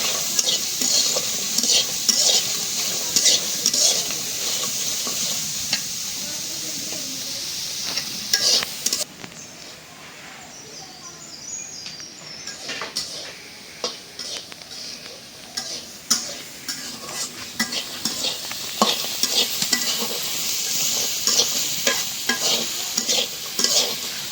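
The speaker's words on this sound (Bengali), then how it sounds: "পেঁয়াজগুলো দিয়ে দিই, ভাজা হয়ে যাবে।" Onions frying in oil with pressed dried fish, garlic and green chillies, a steady close sizzle with scraping stir strokes throughout, briefly quieting midway before the crackle picks up again.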